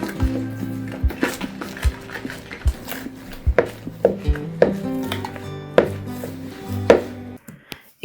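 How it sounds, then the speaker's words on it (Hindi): Milk bread dough is mixed by hand in a bowl with a Danish whisk, making steady, fairly loud thumping and scraping knocks in a loose rhythm, without talk. "मैं डेनिश विस्क यूज कर रही हूँ"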